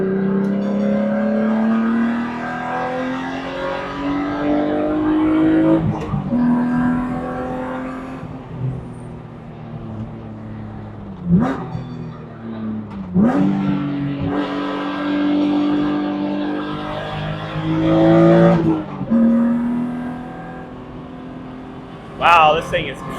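A BMW E36 M3 track car's iron-block straight-six engine revs hard through several gear changes, pitch climbing then dropping with each shift, loud and close throughout.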